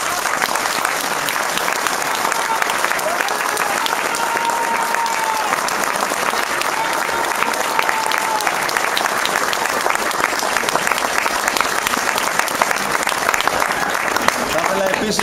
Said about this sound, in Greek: θα ήθελα να δώσω την απλόχερα ένα ζεστό χειροκρότημα σε αυτούς